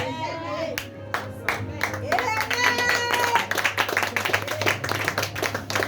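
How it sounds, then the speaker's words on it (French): Applause from two people clapping at a church sermon, steady sharp claps repeating quickly throughout, close by, under a preacher's voice and a low hum. "C'est 2 personnes qui acclament"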